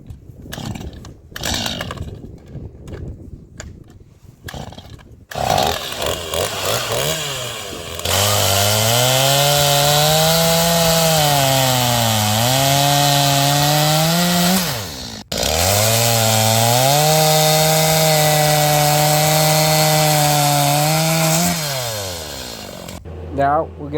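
An 18-inch-bar STIHL 250 gas chainsaw and a battery DeWALT electric chainsaw cut through wood in turns, loud, close and sustained, with the engine note rising and falling under load and a brief pause between cuts.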